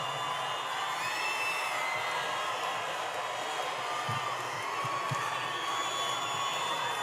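Large crowd at a Donald Trump political rally in Bangor, Maine, a steady roar of cheering and whooping held throughout with occasional louder shouts, filling a big venue at moderate distance.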